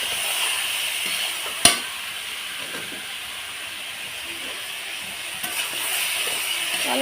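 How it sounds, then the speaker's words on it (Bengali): Bananas with salt and turmeric, plus green chilli, fry lightly in a pan with a steady sizzling hiss, broken by one sharp click near the start and a few soft stirring knocks. "এবার আমি এটাকে হালকা করে ভেজে নেব"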